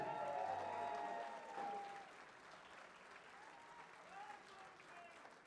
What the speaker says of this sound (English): Ladies and gentlemen, a massive round of applause for Kirsty Viinikainen